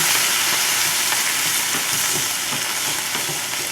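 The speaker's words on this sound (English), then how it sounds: "it's going to start to pop and boil at me and all that kind of stuff where the grease is meeting the sauce" Rice coated in sauce sizzles loudly and steadily in hot grease in a pan for Mexican rice, with soft scraping of stirring running through the constant frying hiss.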